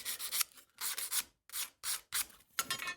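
A slip stone rubs over a curved scraper's edge to hone off the burr, giving six quick raspy strokes in a steady back-and-forth rhythm, close and alone.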